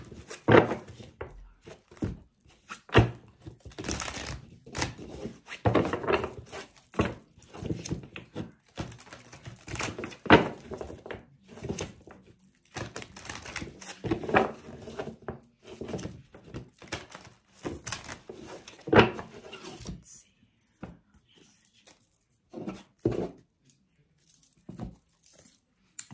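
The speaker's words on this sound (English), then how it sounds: "I was shuffling my cards upside down." Tarot cards being shuffled by hand, giving repeated soft papery riffles, slaps and taps in irregular bursts, close and fairly loud, with no talking, thinning out near the end.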